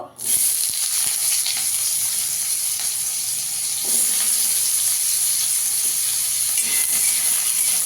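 Potatoes fry in a spoonful of oil in a wok, giving a loud, continuous, close sizzle that holds steady from start to finish.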